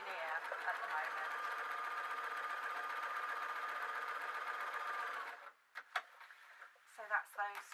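A sewing machine stitches a crossover blouse in a loud, steady whir for about five seconds, then stops, followed by a few sharp clicks and clunks of handling.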